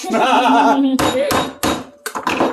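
A coconut is struck hard to crack it open, with several loud, close, sharp whacks in quick succession after a voice speaking.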